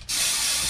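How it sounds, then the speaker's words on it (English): A steady aerosol spray hisses onto a freshly resoled shoe in a cobbler's workshop, a continuous close, loud burst that starts abruptly and holds without pause. "spray it on nicely"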